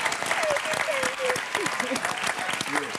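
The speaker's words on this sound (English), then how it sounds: "we got to give this man a round of applause for his bomb show" A live concert audience at a BET Live hip-hop show claps and cheers for the performers. It is a dense, crackling wash of applause, with whoops and voices rising above it the whole time.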